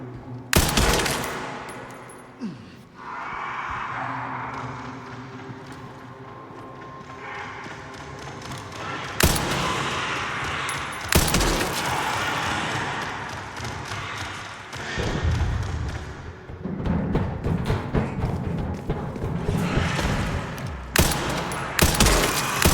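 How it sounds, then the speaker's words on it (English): Gunfire from a sniper rifle and other weapons during combat in Resident Evil Requiem, heavy sharp shots and bursts spaced irregularly over more than twenty seconds, loud and close amid game noise. "I wonder how effective my sniper is going to be."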